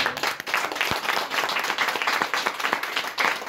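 Audience applause at a conference for the author of the children's book Le Carnet Mystérieux, moderately loud scattered clapping with distinct individual claps, plus brief faint voices.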